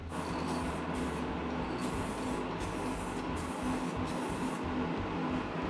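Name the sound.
spray can applying thin coats of Nitorlack paint on a guitar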